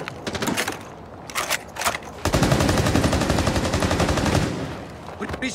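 Rapid automatic gunfire in Rainbow Six Siege, a player shooting at the floor: two short bursts, then a long sustained stream of shots, loud and close, with the game's ambient noise around it.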